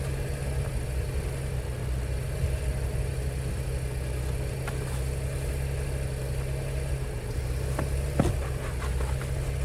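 A car engine idles in winter cold in Canada with a steady, low, even rumble and a constant hum, with a few faint clicks near the end and no speech.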